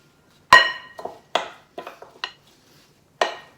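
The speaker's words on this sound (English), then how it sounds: "We're going to need a firm spoon, a wooden spoon. Just mix that together." A wooden spoon mixes eddoes and apple in a bowl, giving sharp, separate knocks and scrapes against the dish, about seven hard taps in an irregular rhythm, close and clear with no talking.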